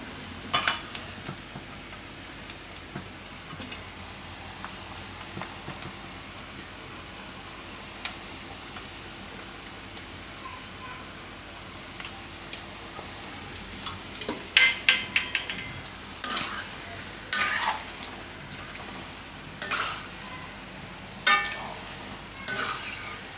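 Bottle gourd (dudhi) kofta frying in hot oil, a steady soft sizzle throughout with stirring clinks and scrapes of a utensil growing louder toward the end.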